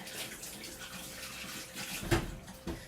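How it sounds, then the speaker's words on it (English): Hands washed under a running kitchen tap while making hot dogs, a soft, steady splash of water with a couple of louder sloshes and knocks near the end, low in level. "let me just wash my hands a minute"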